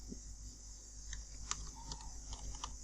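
Fast light keystrokes on a computer keyboard while writing web page code, a faint scattered run of clicks over low room hum, no talking.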